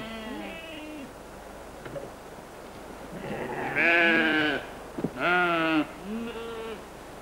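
Sheep bleating on a farm by an old wooden fence along a coastal hiking trail, several drawn-out wavering bleats in a row, fairly close and clear over quiet background.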